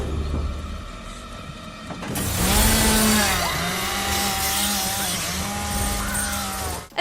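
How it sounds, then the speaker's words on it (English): A chainsaw in a Texas Chainsaw Massacre film scene roars to life after a quiet stretch, its engine pitch rising and falling in repeated revs, loud and close. "Trusty chainsaw at the ready."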